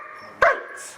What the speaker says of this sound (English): if I say speak and he barks